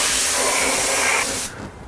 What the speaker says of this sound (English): An aerosol can.